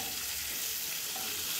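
Dried balu fish frying in a pan over a gas stove, with a steady, continuous sizzle and crackle of hot oil close up and no talking.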